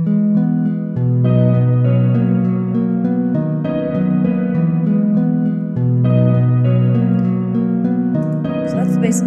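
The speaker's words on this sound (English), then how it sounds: "So together, all of those synths sound like this, and this is how the song starts." Layered synthesizers open a summery love song with sustained, chordal pads built from a ghost-piano chord, looping steadily with a brief dip partway through and no voices.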